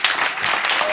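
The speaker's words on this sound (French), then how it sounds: "On peut l'applaudir." An audience in a TV studio applauds a comedian contestant in a dense, loud burst of clapping that fills the whole moment with no talking.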